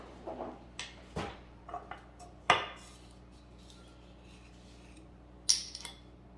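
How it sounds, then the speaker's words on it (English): Metal cutlery clinks and scrapes against dishes as a tablespoon is fetched in a home kitchen while making a gingerbread bundt cake, several short sharp clatters spaced apart, close and fairly quiet. "So I have to get my tablespoon out"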